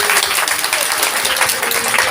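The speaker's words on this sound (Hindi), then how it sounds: "ताली तो लगाइए।" A religious discourse audience claps loudly for about two seconds, a dense, continuous burst of many hands close to the microphone with no talking.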